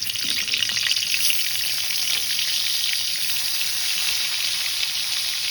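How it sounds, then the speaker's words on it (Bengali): Pieces of rohu fish frying in oil make a loud, dense, crackling sizzle that carries on evenly from start to finish, close up and without speech. "এই রুই মাছগুলো ভেজে নেব।"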